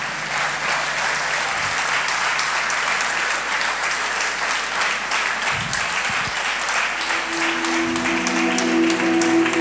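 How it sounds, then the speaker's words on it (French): Church congregation applauding steadily and loudly for the whole stretch, a dense even wash of clapping with a low sustained tone rising near the end. "Est-ce qu'on peut acclamer Jésus ce soir?"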